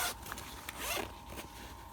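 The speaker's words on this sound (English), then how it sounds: "These zippers open here." Zippers being pulled open on the side pocket of an LA Police Gear Atlas 72 Hour tactical backpack, a few quick close rasping zips in a row, no speech.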